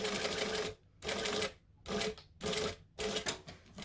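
A sewing machine stitches through several layers of fabric in four or five loud bursts, each lasting about half a second, separated by short pauses while the seam is sewn and backstitched.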